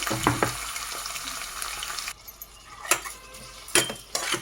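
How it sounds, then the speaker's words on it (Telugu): Onions for brinjal curry frying in a pan, a steady sizzle that drops off abruptly, followed by a few sharp scrapes and clinks of a utensil against the pan. "ఉల్లిపాయలు కూడా వేయించేసుకుందామండి."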